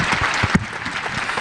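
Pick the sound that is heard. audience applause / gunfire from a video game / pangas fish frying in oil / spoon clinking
audience applause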